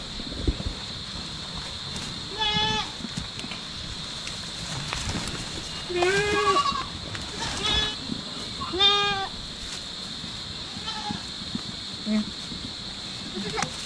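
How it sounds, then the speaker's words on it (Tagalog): A goat bleats in several wavering calls at intervals, with breathy panting and background rustle between them, close by in an outdoor pen. "May kambing tayo na hinihingal, oh."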